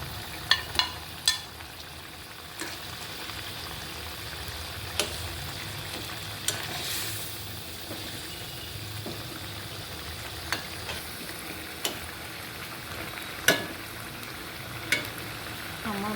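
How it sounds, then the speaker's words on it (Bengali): Hilsa fish sliding into a pan with boiled potato and eggplant, giving a steady low sizzle with occasional stirring clinks and scrapes throughout. "আলু বেগুনটা সিদ্ধ হয়ে গেছে এখন আমি মাছটা ছেড়ে দিচ্ছি"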